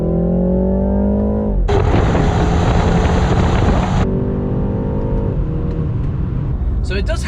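A BMW 330i xDrive pulls hard on the highway from about 40, engine note climbing steadily, then a sharp shift into a broad loud roar before settling back to a rising drone, constant and close throughout.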